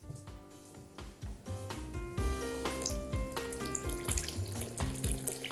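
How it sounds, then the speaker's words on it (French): Water pours steadily into a pan of rice for cooking, a continuous splashing, bubbling stream with shifting gurgles, close up and moderately loud. "je rajoute encore de l'eau pour la cuisson de mon riz"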